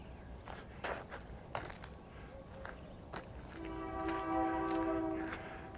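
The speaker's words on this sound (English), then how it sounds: "This is a neat, another train coming." A train rumbles past along Route 66 in the early morning with a few clunks and thumps, then a steady horn sounds and holds for a couple of seconds, fairly distant.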